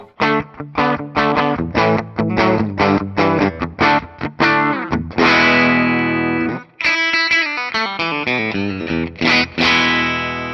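Distorted electric guitar through the bridge pickup of a 2024 Scarred Reaper, strummed in loud, biting chords with choppy rhythmic stabs, then longer ringing held chords near the end, played alone.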